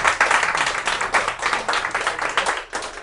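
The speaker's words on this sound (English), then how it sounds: "round of applause for Simon" A small audience at a software architecture talk claps steadily for a speaker, a dense, even patter of hands filling the room for about three seconds without pause.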